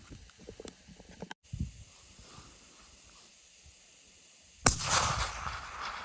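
A single sharp rifle crack aimed at a Sitka blacktail deer on Prince of Wales Island, Alaska, bursting loudly out of quiet outdoor stillness and trailing off into echoing rumble.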